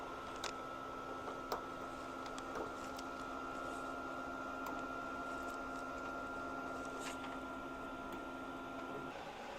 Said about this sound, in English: I'm gonna run some head clean so that I can move the ink and prime the lines